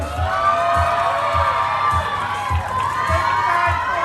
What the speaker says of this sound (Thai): ถ้าถูกใจขอเสียงปรบมือดังๆอีกครั้งหนึ่งครับ